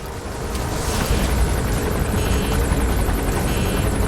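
Helicopter in the video game Metal Gear Solid 5: The Phantom Pain, a steady, fairly loud rotor drone with broad whooshing noise that holds throughout without letup, no voices over it.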